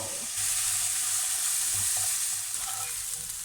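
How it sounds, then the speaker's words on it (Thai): Chopped shallots and garlic frying in vegetable oil for a porcini mushroom risotto, a loud, steady hiss and crackle with faint stirring clatter throughout. "น้ำมันพืชนะคะ หอมกับกระเทียมสับใส่ลงไปเจียว"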